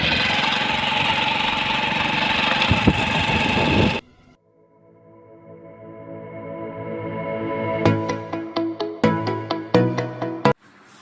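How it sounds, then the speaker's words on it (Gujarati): A motorbike engine runs loudly, cuts out abruptly, then restarts and revs in a series of sharp bursts, close by. "બાઇક લઈને હવે આપણે નીકળી ગયા છીએ"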